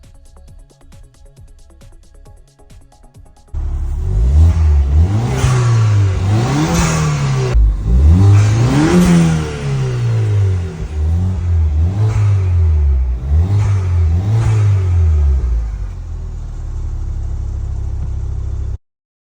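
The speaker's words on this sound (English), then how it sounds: "I did give it a couple of revs because that intake just sounds so good on these little Fiesta STs" A Ford Fiesta ST, freshly rebuilt and warmed up, idles quietly before its engine is revved hard several times, each rev rising and falling in a loud, close surge with a throaty intake note, then settling back near idle.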